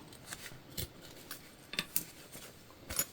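Scissors snip off extra fabric binding in a quick series of faint, close crisp cuts, irregularly spaced over a few seconds.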